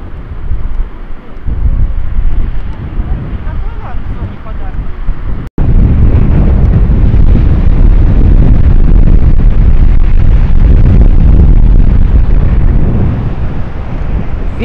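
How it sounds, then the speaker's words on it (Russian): Strong wind gusting across a microphone on an embankment, a loud low roar that buffets continuously with one brief dropout, rumbling throughout and heard alone. "Ветер дует."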